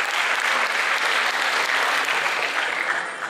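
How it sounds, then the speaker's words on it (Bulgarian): Loud, dense applause from a tournament awards ceremony crowd, sustained evenly throughout before easing slightly at the end. "Аплодисменти, моля."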